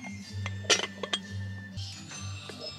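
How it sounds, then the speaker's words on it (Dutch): Glassware being handled among second-hand goods in a thrift shop gives a few sharp, bright clinks clustered near the middle, over a steady low hum, with no talking. "Het gebroken glas."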